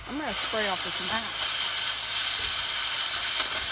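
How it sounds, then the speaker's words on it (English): Water hisses steadily from a hose spraying off a plastic mat in a workshop during a vintage Power Wagon engine pull, a continuous close rush that starts after a brief voice. "I'm gonna spray off this mat."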